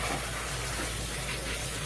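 Water sprayed to rinse parts freshly taken from a vibratory tumbler, a steady close hiss and rush of spray that holds constant for the short stretch.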